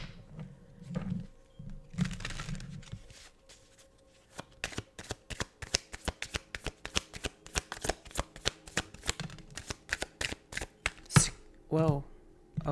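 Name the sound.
shuffling tarot cards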